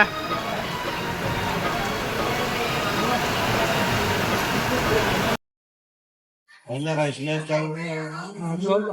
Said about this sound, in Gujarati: વરસાદ ફૂલ જામ છે.